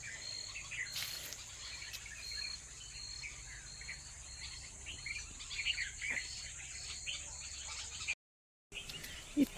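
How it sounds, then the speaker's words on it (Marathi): Sparrows chirp in a garden tree, scattered bright little calls rising over a steady, high droning bed of crickets and insects, with one brief dropout near the end. "झाडामध्ये चिमण्याचं चिवचिवाट इतकं छान वाटतंय ना ऐकायला."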